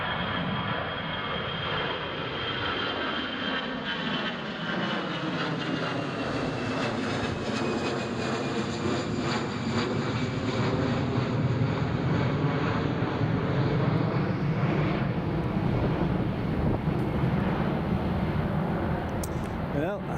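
Emirates airliner at Newcastle Airport, its jet engines producing a continuous heavy roar and whine that slowly rises and shifts, heard from a distance with people talking over it.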